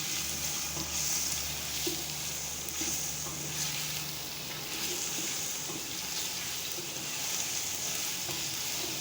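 Onions fried to golden brown with garlic sizzle steadily in a pan as they are stirred, a constant close frying hiss that runs without break for the whole stretch, with no talk.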